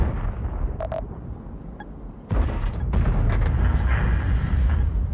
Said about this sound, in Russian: Атомный взрыв.